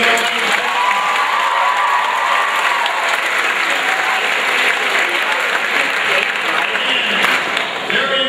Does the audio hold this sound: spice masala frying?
no